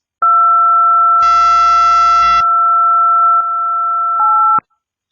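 A steady synthetic tone generated in Audacity with an echo effect applied, two sustained pure pitches held for about four seconds, with a brief buzzy harmonic burst layered in partway through, loud and alone before an abrupt cutoff.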